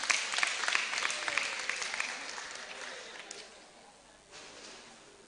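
A gathered group at a symposium for the Sisters of Our Lady of Apostles claps for itself after chanting; the applause is dense and fairly close at first, then thins and fades toward the end.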